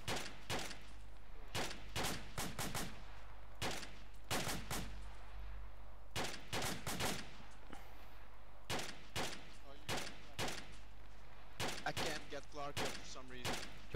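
Suppressing gunfire in the military shooter JSF10 Operation: Black Eagle, with sharp shots in quick clusters and short bursts spread steadily across the stretch, fairly distant and moderate over a low background hum.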